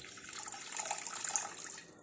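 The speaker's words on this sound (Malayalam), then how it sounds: "ഒരു 1/2 ഗ്ലാസ് വെള്ളം ഒഴിച്ചാൽ മതി കേട്ടോ." Water poured from a glass into a pot on the stove, a continuous close splashing stream that builds in the middle and tapers off at the end.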